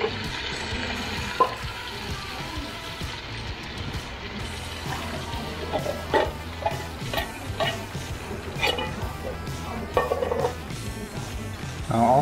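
Two undrained cans of black beans with their liquid tip into a pan and get stirred, a steady wet sizzle under scattered scraping clatter and clunks of the spoon against the pan, fairly close and even throughout.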